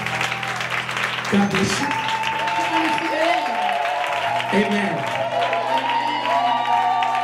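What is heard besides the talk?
clapping hands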